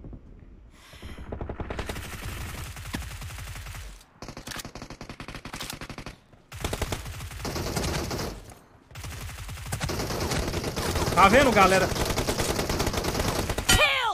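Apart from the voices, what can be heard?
gunfire from a video game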